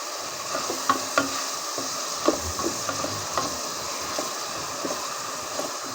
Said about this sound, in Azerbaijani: bax mən soğanı qazanda öldürürəm